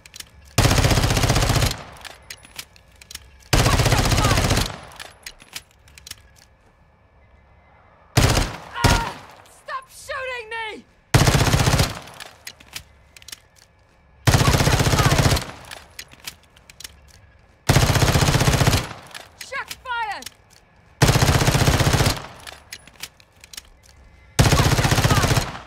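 Automatic gunfire in Call of Duty Modern Warfare 2 multiplayer, loud repeated bursts of several seconds each separated by brief gaps, with a voice shouting between some of the bursts.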